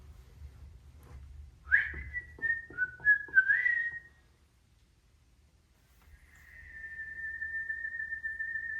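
Whistled tune from a scene in the 2025 film Snow White, a short wavering melody of several notes, then a pause and a long steady sustained whistle tone, fairly clear over a low background hum.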